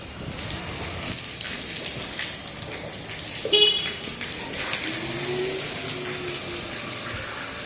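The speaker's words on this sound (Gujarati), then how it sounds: "જો એને ફૂલ વરસાદ." Heavy monsoon rain falling steadily in Surat, a continuous wash of water noise with a brief louder splash midway and faint background sounds, no talking.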